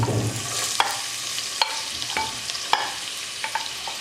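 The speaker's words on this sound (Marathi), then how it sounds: "तेल चांगले तापलेले आहे यात आपण जे तीन बारीक चिरून घेतलेले कांदे होते ते टाकायचे आहेत" Finely chopped onions frying in hot oil in a kadhai, with a steady sizzle running throughout and a few sharp spatula scrapes and taps against the pan, close by and with no talking.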